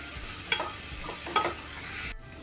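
Sprouted moth beans (matki) fry in oil in a pan, a low even sizzle with two distinct stirring scrapes, close by, before the sound cuts off abruptly.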